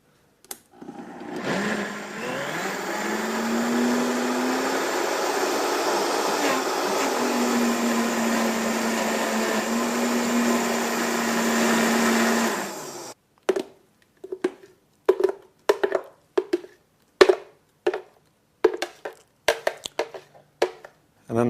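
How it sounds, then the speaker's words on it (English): A countertop blender whirs steadily for about twelve seconds, mixing a raw-food green pudding with blue-green algae, then cuts off abruptly, followed by a string of short, sharp taps and knocks. "blender action."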